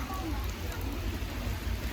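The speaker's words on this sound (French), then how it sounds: "Il pleut vraiment beaucoup." Steady, dense rain pattering loudly over everything, a continuous heavy downpour with a low rumbling wash and no pauses.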